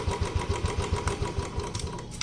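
A Royal Enfield Bullet motorcycle idling steadily after starting, its single-cylinder thump beating in a fast, even rhythm, loud and close, with no talking.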